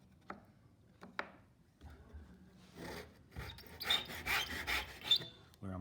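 A rebate is cut into wood by hand, giving a few sharp isolated scrapes followed by a run of rasping, rubbing strokes that grow louder and denser toward the end, close and unaccompanied by speech.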